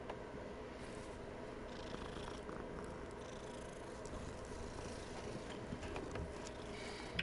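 A cat purrs in Hogwarts Legacy, a steady low rumble that holds evenly and continuously through the whole stretch with no talk over it.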